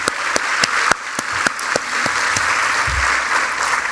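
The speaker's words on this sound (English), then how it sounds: "let's give a round of applause to Elise Mitchell" An audience applauds for Elise Mitchell at a leadership talk: sparse, distinct claps near the front over a broad wash of clapping, fading out toward the end.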